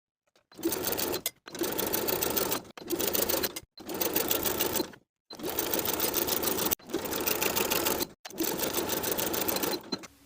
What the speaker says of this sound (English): Sew your sleeve into the armhole with a 5/8 inch seam allowance